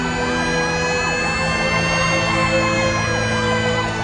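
A fire engine siren wails loudly and continuously, its rising and falling tone repeating steadily throughout, with no talk over it.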